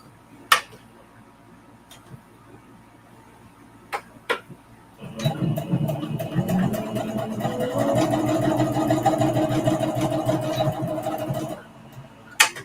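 A home sewing machine stitches fabric for a quilted mug rug: a few sharp isolated clicks, then a steady whirring, rattling run of several seconds that stops abruptly, followed by another click.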